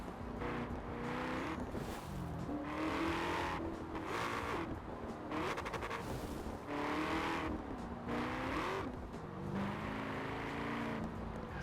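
A 1968 Ford Mustang roars at high speed in Forza Horizon 4, its loud engine note climbing and dropping through repeated gear changes, continuous and close with no talk.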